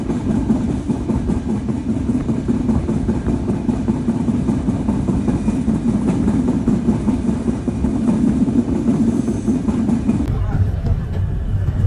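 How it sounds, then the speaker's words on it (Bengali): A train running through Mouchak station without stopping, heard from on board as a loud, continuous mechanical rumble and clatter that holds steady, then drops away abruptly near the end. "আমাদের ট্রেন থ্রু পাস করে বেরিয়ে যাচ্ছে মৌচাক স্টেশন থেকে।"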